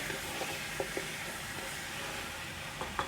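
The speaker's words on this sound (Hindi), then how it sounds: "इसको हम फ्राई करेंगे तकरीबन 5 मिनट के लिए" Nihari ingredients fry in a pan with a steady, close sizzle and hiss, broken by a few light stirring clicks and taps.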